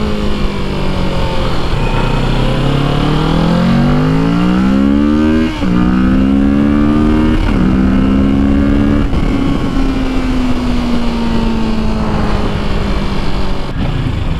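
Kawasaki 650 motorcycle on a demo ride, its engine loud and close, revving up through the gears with repeated rising pitches and shift dips, then settling into a steady drone.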